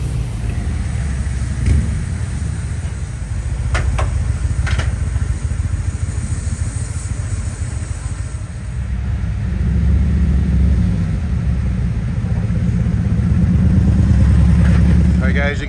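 Line of motorcycles idling and rolling through a crowded park at the Thunder Beach rally in Panama City, a steady low engine rumble that swells and eases, with occasional nearer revs and people talking close by.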